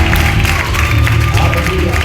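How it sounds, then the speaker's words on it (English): A church congregation claps together during a worship service, a steady, dense wash of hands that runs the whole time, mixed with low music and voices. "Can we clap hands for him?"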